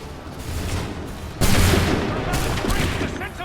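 Gunfire volley in the video game Assassin's Creed 3, a dense rattle of many muskets at once that swells abruptly and sustains loudly, with shouted voices mixed into the battle noise.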